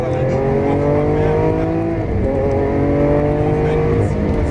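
A 740 hp supercar powers along a race track, its engine a loud, steady roar with rising pitch under acceleration, while people talk inside the car.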